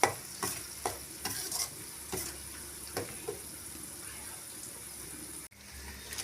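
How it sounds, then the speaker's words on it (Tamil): A masala of ground onion, mint and coriander sautéed in a pan for cauliflower green curry: soft sizzling under repeated stirring scrapes and a few spoon clinks, close and moderately quiet. "இந்த மசாலாவோட பச்சை வாசனை போற வரைக்கும் வதக்கி விட்டுக்கோங்க."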